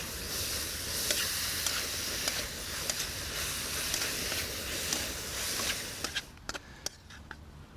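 Holy basil, spring onions and crispy pork are stir-fried in a hot pan, a dense continuous sizzle with regular scraping strokes of the spatula that ends in a few sharper taps as the hiss drops away.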